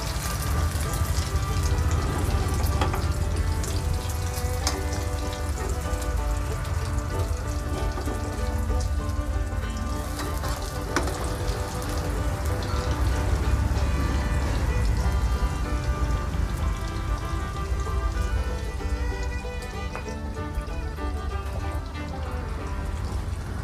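Omelette with naem, Thai fermented pork, frying in a pan: a dense, continuous crackle of hot oil spattering like rain, loud and close, steady for the whole stretch with no voice over it.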